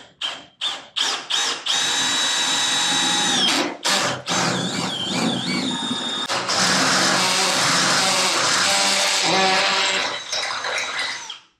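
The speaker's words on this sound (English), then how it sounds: "So we'll drill these through." Power drill boring holes through metal for carriage bolts on a blower equipment guard: several short bursts of whining drilling, then long sustained loud drilling runs with shifting pitch, close by and without talk.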